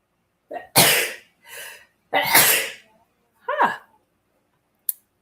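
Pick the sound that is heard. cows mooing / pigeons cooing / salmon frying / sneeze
sneeze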